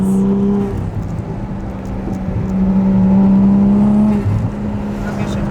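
A 1994 Toyota Chaser with its 1JZ engine drives along, a loud close-up engine drone holding a steady pitch, rising briefly as revs climb mid-way and then easing back down, with some talk in the cabin.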